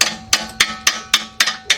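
A hand tool used as a hammer strikes metal during engine removal on a 2006 Kia Sportage 2.7, giving seven sharp, evenly spaced metallic blows close up with no talking.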